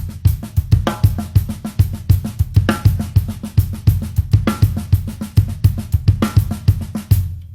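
A repeating bembe drum groove with a deep kick drum thumping on every right-hand hit under the sharper hits, a steady pulse played close and loud.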